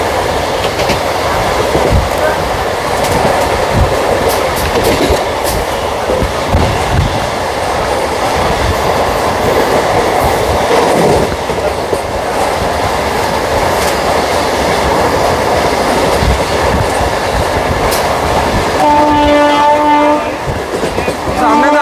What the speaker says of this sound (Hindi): सामने से आ रही है जयपुर चल के नागपुर जाने वाली वीकली सुपरफास्ट एक्सप्रेस।